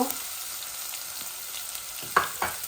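Chopped onion hits hot oil with browned dry spices for Bangladeshi minced meat bhuna, a soft steady sizzle with a couple of sharper stirring crackles near the end.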